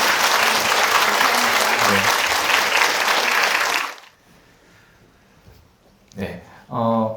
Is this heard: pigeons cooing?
no